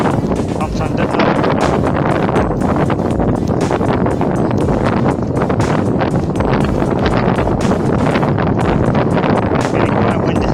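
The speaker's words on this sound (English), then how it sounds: "Getting quite windy" Strong wind buffeting a microphone on a long-distance walk near Llandudno, a loud continuous blustery roar with rapid gusty flutter, heard alone throughout.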